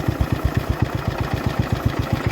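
A John Deere 112H lawn tractor engine idles steadily up close, with an even low chugging pulse and no voices.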